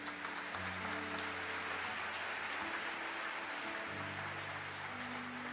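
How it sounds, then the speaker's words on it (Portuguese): Church congregation applauding after a scripture reading, a continuous broadband patter of clapping like rain, with sustained low organ or keyboard tones underneath throughout. "Vamos aplaudir a palavra do Senhor."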